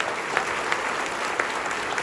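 A church congregation applauds to honor a pastor during a pastoral transition service, with steady, dense clapping from many hands filling the room, rising in a few brief louder swells and with no one talking over it.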